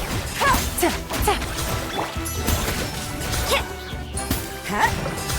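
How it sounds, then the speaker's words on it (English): Sword smashing in a game, several sharp metallic crashes and whacks in a busy, clattering mix, with faint voices under the action. "Smashed your sword!"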